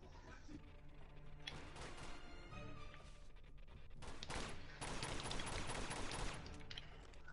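Rifle fire in the Uncharted 2 video game on expert difficulty, a dense continuous volley of shots and crashes running throughout, loud and close, with no speech over it.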